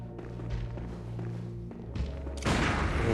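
Gunfire in the Bloodborne video game on PS4: a few dull thuds early on, then a louder blast near the end followed by a sustained burst of noisy impact, over low droning background game sound.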